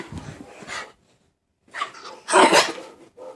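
A dog plays with a sock indoors, giving short bursts of snuffling, panting and mouthing sounds separated by a brief silence, close to the listener.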